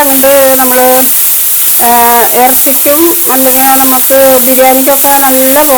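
Sliced onions fry in a pan for a masala base, a loud continuous sizzle with stirring, heard under a prominent melodic voice throughout.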